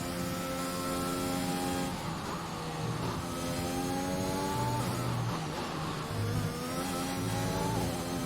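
Simulated F1 race car engine in F1 2021 at a wet Austrian Grand Prix, a high-pitched whine that climbs steadily through the gears with brief shift dips, loud and continuous with no talking.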